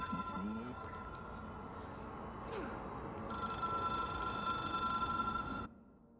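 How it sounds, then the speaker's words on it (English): A telephone rings steadily in the video game Control, an electronic bell tone repeating for several seconds over low ambient hum before cutting off abruptly near the end. "phone's still ringing."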